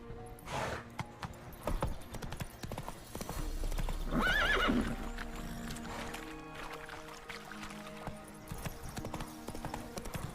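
Roach, a horse in The Witcher 3, clip-clops at a steady gallop with hooves drumming near and clear, and a brief whinny about midway through.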